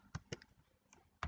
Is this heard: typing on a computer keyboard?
yes